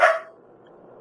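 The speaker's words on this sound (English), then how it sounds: "That is my dog in the background." A single short dog bark at the start, fairly distant in the background, quickly decaying into a low steady room hum.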